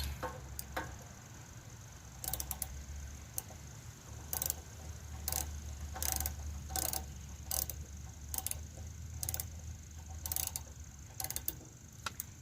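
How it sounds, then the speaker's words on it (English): A wrench tightens spark plugs on an 800 Suzuki Intruder VS motorcycle, making clusters of quick ratcheting clicks that come in rhythmic bursts with short pauses, close and fairly crisp over a low background hum. "I'm going to use my wrench to get them in there a little tighter now."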